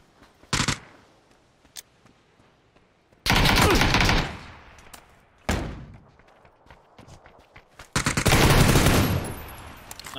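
Gunfire in PUBG: several sharp bursts of automatic fire, each a loud rapid crackle lasting about a second, separated by quieter gaps with faint footsteps and thuds.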